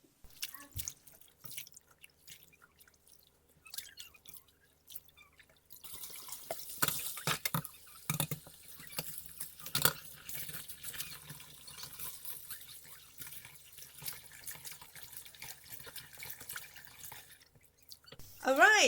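Tap water runs and splashes as pumpkin leaves are rinsed in a kitchen sink, starting after a few quiet seconds with scattered drips, then a steady moderate rush with faint talk at times.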